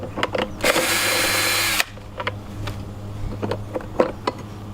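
A power drill fitted with a socket backs out 10mm bolts on a Sun Joe lawn dethatcher, giving a loud whirring burst of just over a second, then clicks, taps and short mechanical rattles close by.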